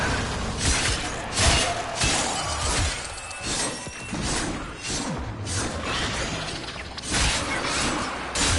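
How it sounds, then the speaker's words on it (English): Glass shattering repeatedly in the Warframe game, loud crashing smashes one after another with whooshing melee swings between them, continuous and up close. "Time to smash some glass."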